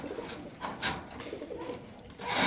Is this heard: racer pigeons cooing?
yes